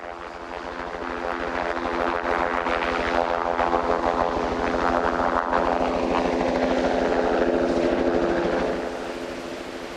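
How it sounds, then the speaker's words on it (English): Several helicopters loading poison bait at the edge of the Makarora River, near Lake Wanaka: a steady, loud rotor and engine drone with rapid blade chop that swells and holds, then eases slightly near the end. "The 7 helicopters used to spread the poison bait were loading from the edge of the Makarora River"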